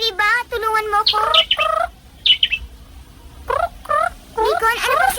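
A robin chirping, a run of bright, repeated tweets and trills in separate bursts with short gaps, close and clear, with no talk.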